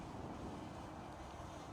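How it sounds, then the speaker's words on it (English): Wind buffets a microphone outdoors during a drone flight, giving a faint, steady low rumble with soft gusty swells and no other clear sounds. "it is quite windy though"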